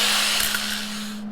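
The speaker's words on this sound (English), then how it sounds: "I'm going to go ahead really quick and clean up all this rust so that I get a good weld." A power tool grinds rust off a steel plow disc before welding, giving a steady close hum and rough whir throughout the short stretch.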